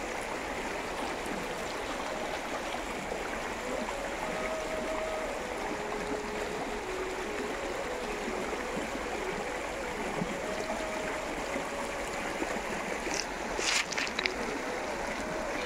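A bamboo boat moves along flowing water in a village river crossing, giving a steady wash of water and stream noise throughout, with a brief brighter splash or clatter near the end.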